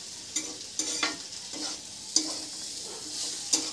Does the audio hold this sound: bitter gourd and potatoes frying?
yes